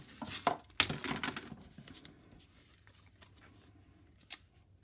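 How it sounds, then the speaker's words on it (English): Large scissors snip a few quick, crisp cuts through fraying ribbon while making a greeting card, then the sound fades to a quiet room with faint handling noise. "I'm going to use the biggest scissors I have to get in there and trim it."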